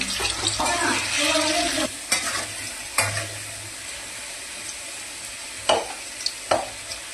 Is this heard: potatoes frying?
yes